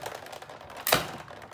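Paper card pieces and a top sheet run through a manual die-cutting machine, with soft clicking and rolling followed by one sudden loud crunching surge near the middle, close and unaccompanied by speech.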